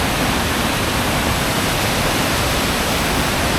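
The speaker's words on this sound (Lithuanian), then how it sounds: "Krioklys." A loud, unbroken roar of rushing water from a nearby waterfall in the Carpathians, filling the whole soundscape, steady and broadband.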